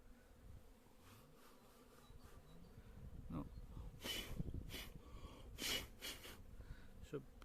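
A dense, steady buzz of many honeybees close by in an open hive as a frame is lifted out, with a few brief breathy bursts and soft handling noises mixed in.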